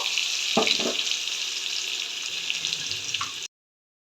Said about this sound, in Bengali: এই তেলের মধ্যে এবার আমি আলুটাও ভেজে নেব এক এক করে বেগুনটাও ভেজে নেব